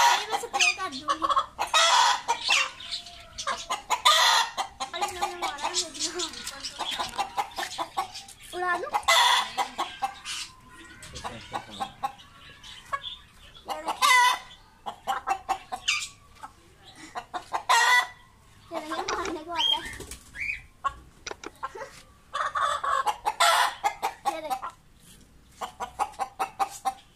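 Aseel chickens cluck repeatedly and an Aseel rooster crows several times, loud and close, with short bursts of talk in between.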